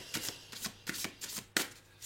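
A deck of cards is handled in a series of quick riffling bursts, five or six short papery flutters in close succession with no talk, likely shuffling more than a single clean cut.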